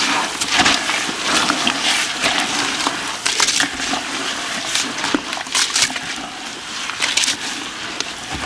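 Thick, soupy rice carp and catfish bait being stirred by hand, giving a steady run of wet squelching and crunching with small splashes throughout, close and fairly loud.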